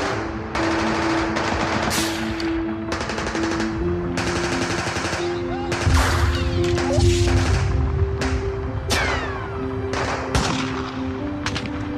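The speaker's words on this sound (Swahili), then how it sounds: "Risasi zilirindima kwa takribani dakika mbili nzima" Rapid bursts of machine gun fire from a hostage rescue raid at Entebbe airport, loud and sustained with repeated rattling volleys and heavy impacts throughout, no voices over it.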